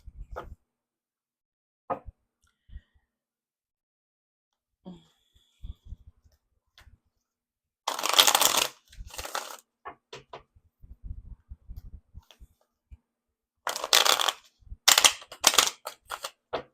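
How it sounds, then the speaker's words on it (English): Tarot cards being shuffled by hand, with two loud bursts of riffling and slapping separated by quiet gaps, plus scattered soft taps and clicks from the deck. "Let me shuffle these."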